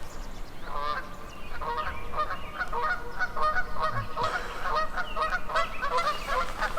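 A flock of geese honks repeatedly and loudly nearby, overlapping calls forming a continuous noisy chorus over steady background noise.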